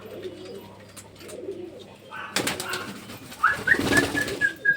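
Pet pigeons coo softly in a home loft, low murmuring calls that swell and grow busier toward the end, with faint voices in the background.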